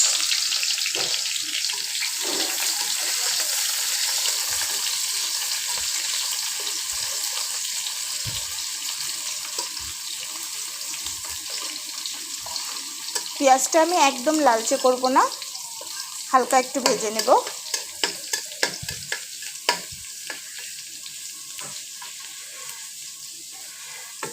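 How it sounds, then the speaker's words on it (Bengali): Chopped onions frying with panch phoron in hot oil, a steady close hiss and sizzle that swells into louder crackling bursts midway before settling again. "পাঁচফোড়নটা ফুটে আসলে আমি দিয়ে দিচ্ছি কিছুটা কোটানো পেঁয়াজ"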